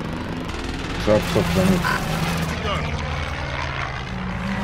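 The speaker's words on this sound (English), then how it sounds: "Airstrike incoming." Game airstrike in Call of Duty: Modern Warfare, with a propeller aircraft droning overhead through the whole stretch, loud and steady amid battle noise, while voices speak over it.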